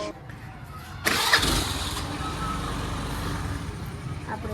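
A car engine cranks and catches about a second in, then settles into a steady, close idle rumble that continues to the end.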